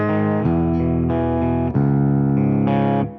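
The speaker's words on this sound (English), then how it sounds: "I think this is actually one of my favorite guitar riffs ever." Distorted electric guitar riff, loud and sustained, with dissonant chord changes played through effects, repeating in a moody pattern with no voices.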